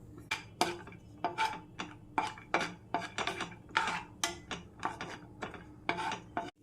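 Cashew nuts tossed into warm ghee in a pan for a Kerala snack of nendran banana and rava, giving a run of about a dozen sharp clinks and sizzling rattles at close range, with no talk.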